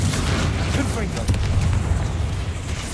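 A Confringo fire-spell explosion in Hogwarts Legacy bursts amid dense, loud combat noise, with a brief sharp crack midway over a rumbling low background.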